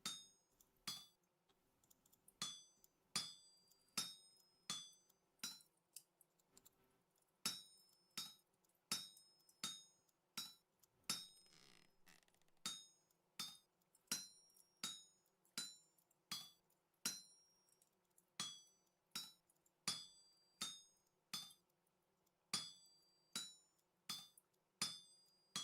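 Metal clinks from a hammer forging on an anvil in Vintage Story come in long steady runs of bright, ringing strikes, dozens of even blows broken by brief pauses, faint and unaccompanied by voices.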